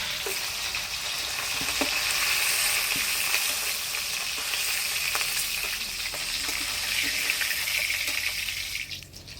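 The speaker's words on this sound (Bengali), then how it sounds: "মাছের মুড়োটা ভালো করে ভাজিয়ে নিলাম এবার তুলে নেব" A fish head fries in hot oil with a steady, close sizzle and crackle, small pops scattered through it, holding level before thinning out at the very end.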